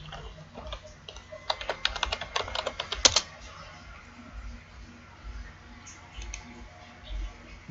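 Keys clatter on a computer keyboard as someone types to sign in, a quick burst of close clicks for about three seconds followed by quieter room tone.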